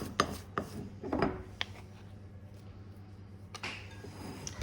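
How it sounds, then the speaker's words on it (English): A wooden spoon scrapes sticky Hungarian chocolate biscuit dough out of a bowl onto flour, with a few close knocks and rubbing scrapes early on, then quieter handling. "Make sure you scrape it all off with your wooden spoon"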